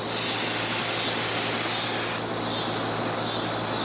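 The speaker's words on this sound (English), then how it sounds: "I'm gonna spray this unevenly on purpose so you can see what'll happen if you don't keep" A spray can applying finish to a piece during furniture refinishing, a loud, close, continuous hiss that shifts slightly partway through as the spray moves.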